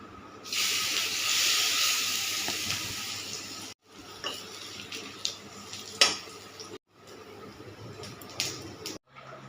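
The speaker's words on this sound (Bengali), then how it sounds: "ধোকাগুলো লালচে করে ভেজে নিচ্ছি।" Diamond-shaped lentil dhoka cakes fry in hot oil in a wok, giving off a loud, close sizzling hiss. The hiss breaks off and resumes in shorter bursts, with occasional clinks of a utensil.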